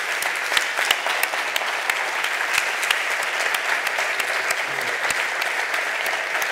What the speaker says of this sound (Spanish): Pues los aplausos sirven bien para marcar casi ya un punto y final.